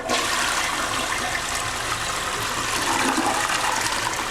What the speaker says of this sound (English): and flushing the toilet